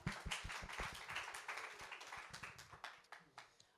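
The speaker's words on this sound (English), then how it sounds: "I just want to give you a round of applause" A small group claps for a performer at an intimate music salon, quick individual hand claps in a loose, uneven rhythm, quiet and close, tapering off toward the end.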